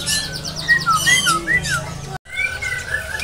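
Songbirds chirp and whistle at a caged-bird market, rising and falling calls in quick bursts over steady background hum, with a brief cut of silence partway through before more chirping.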